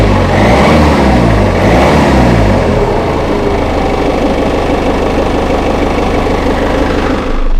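A Citroen Relay van with a temperature sensor fault revved while parked: a loud, close diesel engine climbs through a couple of revs, then holds at a steady raised drone.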